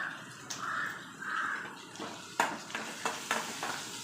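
Squid pieces with curry leaves fry in hot oil, giving a soft steady sizzle broken by several sharp stirring clatters and scrapes from a utensil in the pan, close by and alone with no voices.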